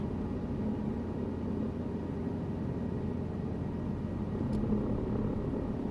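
A helicopter in Microsoft Flight Simulator 2024 flies with a steady, dense engine and rotor rumble and a broad whooshing drone that holds at a constant level throughout, with no talking.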